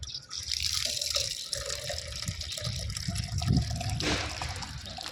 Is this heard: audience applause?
no